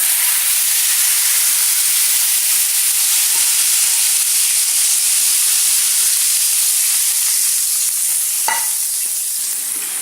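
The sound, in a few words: hot tadka tempering poured into kadhi, sizzling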